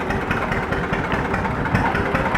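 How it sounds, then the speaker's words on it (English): John Deere Model D two-cylinder tractor running at a steady, continuous rumble, close and fairly loud, with no other sounds on top. "This workhorse originated from an era when two-cylinder engines defined the brand's signature putt-putt rhythm, a sound cherished by collectors even today."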